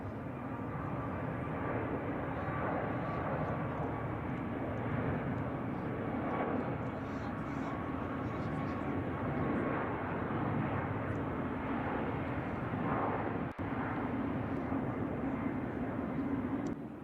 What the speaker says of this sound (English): So let's take a look at Air China's 777 here.